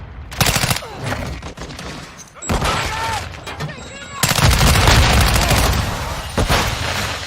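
Gunfire in a military shooter video game: loud rapid bursts of automatic fire and heavy shots in several stretches, with brief quieter gaps and faint game sounds between.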